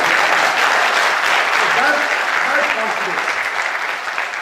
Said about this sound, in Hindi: अब तो ताली बजा ही लो.